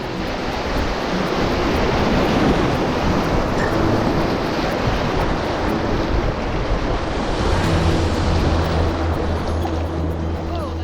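River rapids on the Bloodvein River in the Manitoba wilderness, heard from a canoe: a loud, steady, broadband rush of churning whitewater that fills the whole scene without pause.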